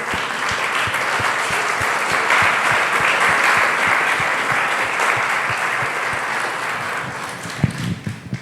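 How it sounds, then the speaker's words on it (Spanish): A church congregation applauds the Lord during a morning service, loud sustained clapping from many hands with a few rhythmic claps standing out, building slightly before tapering with scattered louder claps at the end. "¿Por qué no le damos un fuerte aplauso al Señor en esta mañana?"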